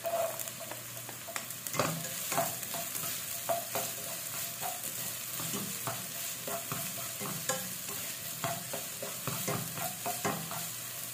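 Garlic frying in a pan, a steady soft sizzle with frequent light scraping and stirring clicks throughout, fairly quiet and with no talking.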